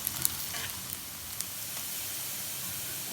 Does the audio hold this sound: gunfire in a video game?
no